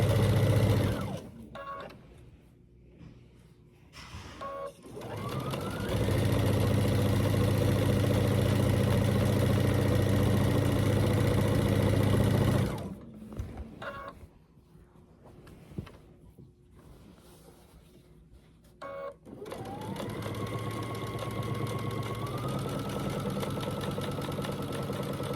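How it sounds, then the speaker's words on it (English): A sewing machine stitches binding onto a quilt in two long runs of steady, close mechanical whirring, each stopping and then starting again after a quieter pause in between. "So then I finish sewing the binding on by sewing this part I hadn't sewn"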